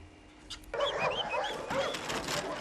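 Puppies at a Mexican army training center for rescue and drug-sniffing dogs yip and whimper in short high bursts, fairly close, over faint background noise.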